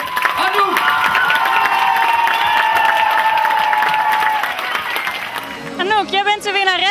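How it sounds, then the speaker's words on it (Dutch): A crowd at a trophy ceremony applauds and cheers the first-place winner, loud dense clapping mixed with whistles and shouts, fading after several seconds into close-up talking. "Dames en heren, nog een heel groot applaus voor"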